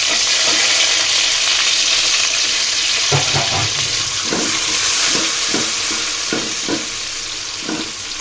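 Onions frying in oil with garlic that has already browned, a loud steady sizzle filling the whole clip, broken by scraping stirs and soft clacks of a spatula against the pan.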